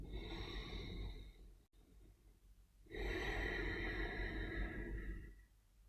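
Slow, deep breathing during a relaxation exercise. A long, close, soft breath is followed by a brief pause and then a fuller, louder breath that fades out.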